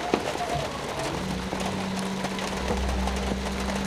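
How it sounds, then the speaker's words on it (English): Rain falls steadily with a dense, even patter of drops on surfaces, joined by faint tapping and a low hum. "Here comes the rain."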